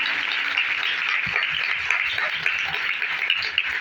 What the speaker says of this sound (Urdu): ہم یسوع کے جلال کے لیے زوردار تالیاں بجائیں گے